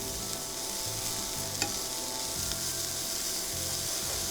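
Vegetables sautéing in a pan, a constant moderate sizzle broken by regular scraping stir strokes, with no voice over it.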